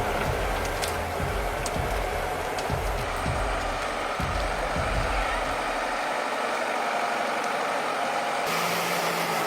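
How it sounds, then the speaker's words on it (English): Heavy truck engine of a tree-felling machine rumbling close by in a deep forest, with repeated deep revving pulses early on that settle into a steadier, lower drone. "The sound of the engine resounds through the deep forest"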